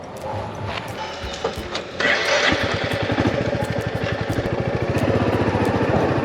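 Motorcycle ridden in the morning on the road from Talli Dal Dant toward Kainchi Dham near Nainital, its engine chugging in a steady rapid pulse that grows louder and rougher as the ride picks up.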